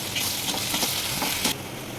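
Fried rice ingredients with turmeric and salt tossed and stirred in a hot frying pan, giving a steady close sizzle with soft scraping strokes throughout, no voices.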